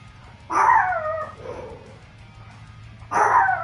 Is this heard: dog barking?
yes